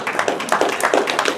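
Construction workers in Cocachacra clap loudly and close by in quick irregular bursts, a short lively round of applause.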